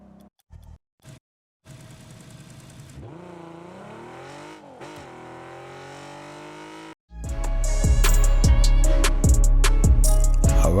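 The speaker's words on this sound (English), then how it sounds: "this game gives you the opportunity to pick all type of engine sounds" Engine sounds from cars in the video game Rocket League: a steady, wavering engine drone with shifting pitch, then a louder, busier stretch of rapid revving and sharp repeated bursts near the end. No talk.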